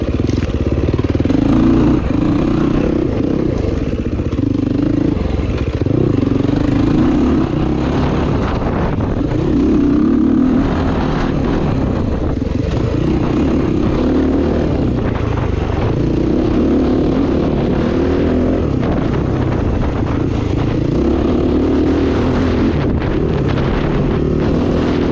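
An RS500 dirt bike ridden over wet single track dirt, its engine droning steadily and loud throughout with wind buffeting the microphone, no talk.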